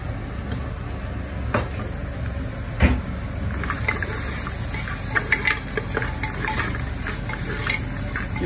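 Spiced lamb curry sizzles in a pan over a low flame while being stirred, with close scraping strokes and a few sharper clacks over a constant frying hiss.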